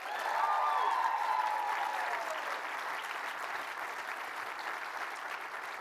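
A conference opening-session crowd keeps up sustained, even applause after an a cappella group's performance, with a faint whoop early on over the broad wash of clapping.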